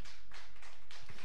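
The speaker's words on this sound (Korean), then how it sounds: "박수 한번 쳐도 감사합니다." A church congregation clapping in rhythm, a few broad, evenly spaced bursts of many hands together, steady and fairly loud.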